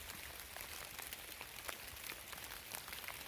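Rain falls steadily in a forest during a backpacking hike, a dense, even patter of drops on leaves and gear, faint and continuous with scattered slightly sharper drop hits and no talking.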